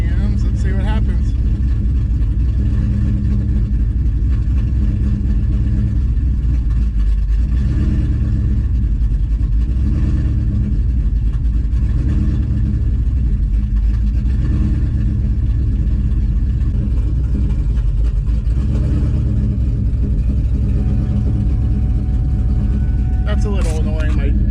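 A nitrous-injected New Edge car engine idles in a low, steady rumble after starting up, holding an even drone throughout with a few faint higher ticks near the end.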